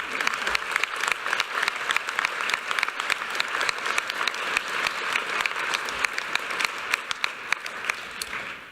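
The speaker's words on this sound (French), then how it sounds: "On peut encore les applaudir, le collectif Ming." An audience at an art prize event applauds an art collective with steady, even clapping that holds at a fairly close, moderate level throughout, with a few sharper claps standing out.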